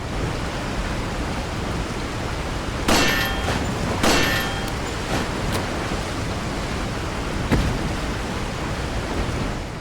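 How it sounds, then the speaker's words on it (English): Shots hit a box in Resident Evil 4, giving a few sharp metallic clanks, two close together and another later, over a constant rush of water. "it makes this kind of ugly sounding clank sound when you hit the box"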